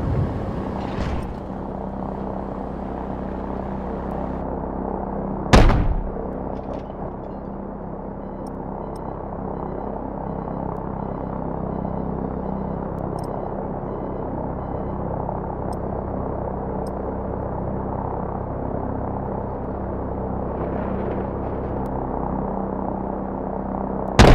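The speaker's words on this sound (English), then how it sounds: "Friendly helicopters entering the area." In the video game Call of Duty Modern Warfare Remastered, steady helicopter rotor drone fills the scene, a constant low whir with a couple of brief sharp bangs breaking through.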